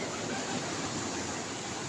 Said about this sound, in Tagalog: Malaki na po yung mga alon mga katropa.